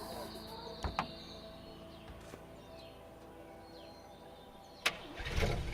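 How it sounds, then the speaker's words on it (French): A car engine in the video game A Way Out cranks and tries to start, with sharp clicks and brief bursts over quiet background, then a louder rumble as the engine catches at the end. "Hey, Leo, try starting the car now."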